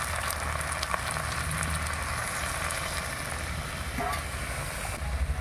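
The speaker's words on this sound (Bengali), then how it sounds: "এবার দিয়ে দিচ্ছি অল্প করে জল।" Chicken cooking in a pan over a wood fire sizzles and crackles loudly and steadily as a little water is poured in, with a brief bubbling splash partway through.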